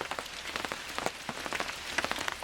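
Steady rain patters on a campsite with a vintage camper at Pipestem, dense close drops tapping in an irregular rhythm, moderately loud with no talking.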